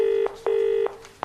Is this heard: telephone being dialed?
yes